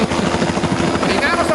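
Rhythmic rotor chop of a helicopter, loud and close, beating steadily throughout the short stretch.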